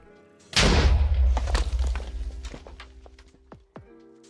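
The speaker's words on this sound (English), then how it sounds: "let's just see how many we get with our second explosion" A charged creeper explodes in Minecraft with a sudden loud boom that rolls on for a couple of seconds, followed by scattered thuds and item pops as the blast fades, then a final small hit.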